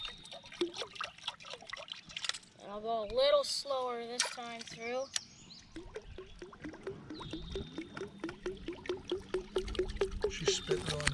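A musky topwater lure plops and sputters across the water in a quick rhythmic series of small splashes, fairly faint and close, while people talk over it.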